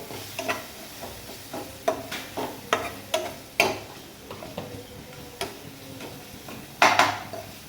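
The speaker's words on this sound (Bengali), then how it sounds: "কিচেন সস দিয়ে আবার ভালো করে আমি নেড়ে ছেড়ে নেবো" A spoon stirs Maggi noodle masala with sauce in a pan, giving a series of sharp, irregular scrapes and clacks against the metal over a faint background sizzle, with no talking.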